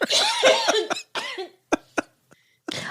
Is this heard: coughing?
yes